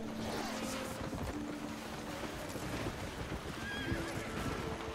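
A horse neighs in the video game Albion Online, a whinny over a dense, loud bed of game ambience and noise, with no talking.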